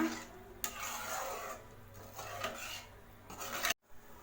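Mutton keema gets mixed with salt and lemon juice in a pan. A spoon scrapes and rubs softly and steadily at close range, with a few sharper knocks and a brief silence near the end.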